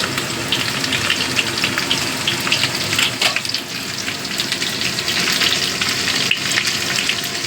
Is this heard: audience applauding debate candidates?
no